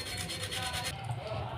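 A silver idol is scrubbed during washing, a brief burst of rhythmic rubbing strokes, close and fairly loud, then fading, with a voice faintly present.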